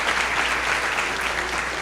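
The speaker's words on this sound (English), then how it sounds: "One more round of applause for our outstanding Board of Trustees for being here" Audience applause for the Board of Trustees at a school district Teacher of the Year luncheon, a dense steady wash of many hands clapping close and loud, with no voices over it.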